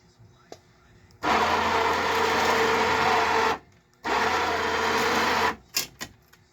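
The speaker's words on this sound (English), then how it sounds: "Now, since it's so heavy, I need the help of this winch." ATV winch fitted inside a Subaru Forester reels in its wire in two steady whirring runs of about two seconds each, close and fairly loud, with a short pause between them and a few clicks afterward.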